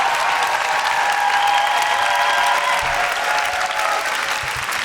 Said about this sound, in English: Please keep those applause coming